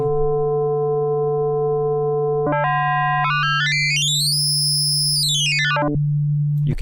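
A single sustained FM synthesizer note with its modulator ratio being raised, so the buzzy tone holds steady and then its upper overtones step and sweep sharply upward before dropping back, loud and steady with no voices.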